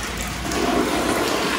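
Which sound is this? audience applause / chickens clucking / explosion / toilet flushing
toilet flushing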